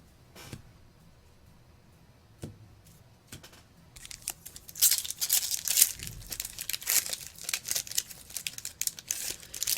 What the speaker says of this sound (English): The crack packing sound is my favorite part of this process.